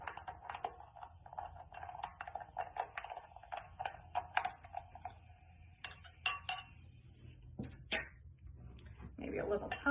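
A cocktail with a grapefruit cube mixer is stirred in a glass, giving a quick run of light clinks and taps close by, with a faint background murmur.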